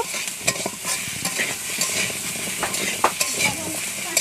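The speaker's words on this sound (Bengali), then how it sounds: "আর কচুটাকেও একটু ভালো করে কষে নেব।" Cut taro with turmeric and salt frying in a pan, a steady close sizzle with repeated scraping strokes of a spatula; no voices.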